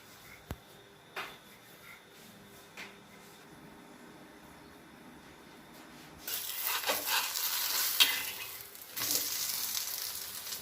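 Paneer and onion parathas fry on a hot pan, at first only faint clicks and soft taps, then from midway a loud, bright sizzle swells and continues with scraping sounds.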